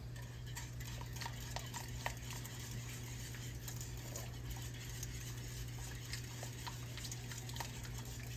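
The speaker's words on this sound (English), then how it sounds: "we're going to fold in our turkey" Leftover turkey gets stirred and folded into a thick cream sauce, faint soft scraping and light clicks of a utensil against the pot over a low steady hum, with no one speaking.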